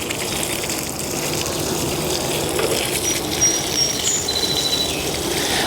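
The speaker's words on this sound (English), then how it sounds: "Here I have a watering can, 6 gallons of water it holds. And this watering can will be used on 1 bush." Water pours from a six-gallon watering can onto a garden bush as a continuous close splashing gush with no talking.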